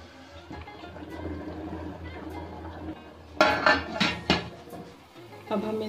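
A metal idli stand lowered into a pot of boiling, steaming water, with faint bubbling followed by a few loud metallic clanks and scrapes of the stand against the pot, no talk.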